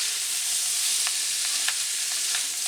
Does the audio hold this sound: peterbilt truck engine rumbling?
no